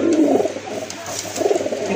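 A domestic pigeon coos nearby in low, throaty, repeated phrases, the soft rolling calls rising and falling in a steady rhythm with no talk over them.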